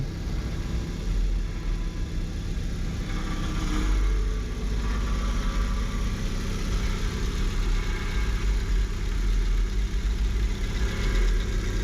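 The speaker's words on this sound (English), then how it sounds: "Just turning the steering wheel side to side, all the way, all the way, all the way, and back." A Hyundai Accent engine idles steadily and continuously at close range while the steering wheel is turned from lock to lock, with the power steering system under load, and no talk is heard.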